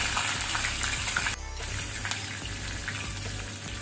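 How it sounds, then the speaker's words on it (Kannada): Green chillies fry in hot oil with browned urad dal for rice sevai upma, giving a soft, steady sizzle with a brief dip in the middle and no talking. "ಉದ್ದಿನ ಬೇಳೆ ಕೆಂಪಾದ ನಂತರ 2 ಹಸಿಮೆಣಸು, ಗ್ರೀನ್ ಚಿಲ್ಲಿ ಹಾಕೊಳ್ತೀನಿ."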